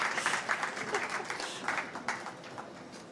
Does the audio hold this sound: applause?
yes